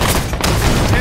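A short loud burst of rifle fire from Halo 5 multiplayer, rapid shots packed into about a second under game voices and a noisy battle mix.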